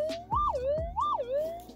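Metal detector sweeping over a loud buried target in thick leaf litter while gold prospecting at Whipstick, giving two rising-and-falling warbling tones about half a second apart, clear and close with no talk.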